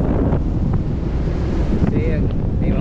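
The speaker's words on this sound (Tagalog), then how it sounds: "ang lakas ng hangin, no?" Strong wind roars continuously across the microphone outdoors on a sunny morning, a dense, unbroken rumble with faint traces of a voice underneath.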